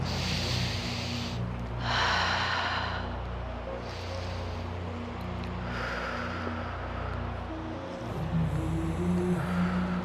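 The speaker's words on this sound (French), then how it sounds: "Le dos bien droit, on va juste respirer 3 fois." Slow, deep breaths taken during a lower-body stretching session for the splits, three or so audible inhales and exhales of breathing over a constant low background hum, with no talking.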